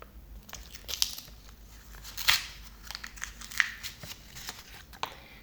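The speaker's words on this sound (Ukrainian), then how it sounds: "Давай, відкривайся пакетик." Crinkly paper rustling with a few sharp tearing snaps as a small paper packet is pulled open up close.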